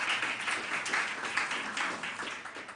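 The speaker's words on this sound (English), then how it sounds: "Applause, applause." Applause from the audience at a panel discussion on occupational safety and health policy, a steady wash of clapping lasting the whole stretch with no talk over it.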